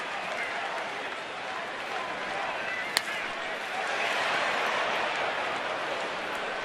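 A baseball stadium crowd roars in a steady, broad wash of cheering after a defensive play in a Yankees game, swelling slightly toward the end, with a sharp crack near the middle.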